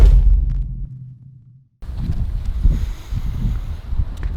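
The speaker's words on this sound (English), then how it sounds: "It's a bit windy, so hopefully it's not too windy." Gusty wind buffets a microphone outdoors with a low, rumbling roar that drops away briefly, then returns steady and blustery.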